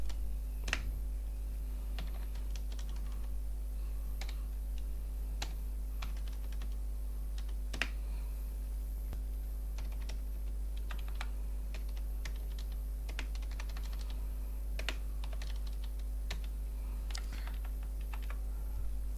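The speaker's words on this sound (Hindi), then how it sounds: "अब यहाँ पर लोन का जो अमाउंट होगा वो टाइप करेंगे।" Steady typing on a computer keyboard while entering a loan amount into an Excel spreadsheet, with close, light clicking keystrokes in an uneven rhythm over a constant low electrical hum and no talking.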